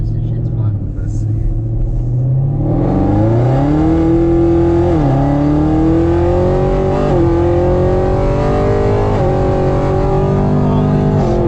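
A cammed V8 engine in a Camaro ZL1 with headers rumbles close by, then revs up and climbs with a loud, lumpy, choppy exhaust note that holds steady, dipping briefly between throttle blips.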